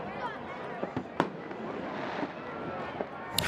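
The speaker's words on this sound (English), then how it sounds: "1 or 2 fireworks already starting to go off here" Fireworks go off at a soccer stadium during a match, with scattered sharp pops and bangs rising over a steady wash of crowd noise.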